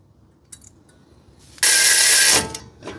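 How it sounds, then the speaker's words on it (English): A hand ratchet tightens brake assembly bolts on a Triton, with a few faint clicks and then a close, loud burst of rapid ratcheting lasting under a second, followed by quiet. "Make sure to just double check your work by going over it with an actual hand tool."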